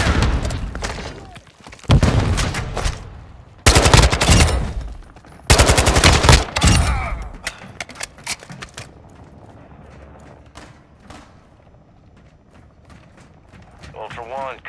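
Bursts of automatic gunfire in a Call of Duty Modern Warfare 2 DMZ firefight, loud and close in several rapid volleys over the first seven seconds, then fading to quieter scattered shots and game noise.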